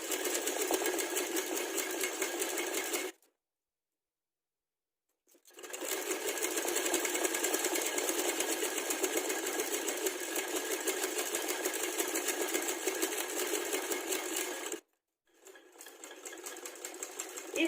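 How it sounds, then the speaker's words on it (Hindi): A sewing machine stitches the side seam of loose palazzo pants in two long, even runs, a steady close mechanical whirr with a brief silent pause between them and a short restart at the end. "अब इन निशानों को मिला के इस तरह से सिलाई लगा लेंगे।"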